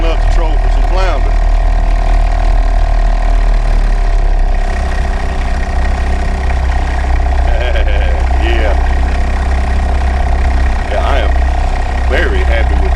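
A 2 HP Johnson Sea Horse outboard motor idles slowly on the water while trolling for flounder, a steady loud drone throughout with a voice talking over it.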